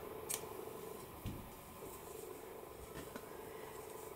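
Scissors snipping crochet yarn, a couple of quiet, brief cuts close by against a soft steady background hum.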